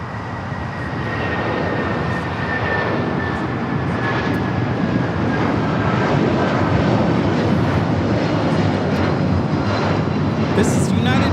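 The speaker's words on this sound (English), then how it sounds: "This is United Airlines 2127 taking off to Newark on the 757-200" A United Airlines Boeing 757-200 takes off from Los Angeles LAX bound for Newark, its jet roar swelling after the first second and holding loud and steady, with broadband rumble and a faint whine on top.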